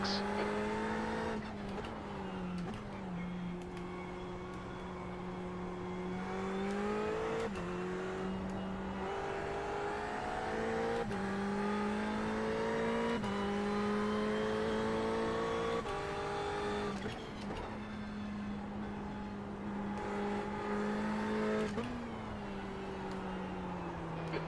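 Race car in the iRacing sim racing game at Spa, engine droning steadily with repeated gear shifts and pitch climbs, loud and continuous with no talk over it.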